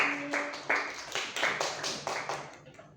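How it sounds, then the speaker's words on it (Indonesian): A classroom audience claps for a student presenter during a university micro-teaching practice session, giving a short burst of applause of distinct, fairly sharp hand claps in a loose rhythm that fades toward the end. "Beri aplaus teman-teman untuk Mbak Adril"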